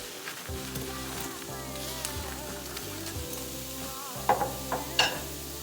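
Shrimp frying with onions in a hot pan, a steady close sizzle with scraping stirs and a few sharp clatters near the end, under a low hum.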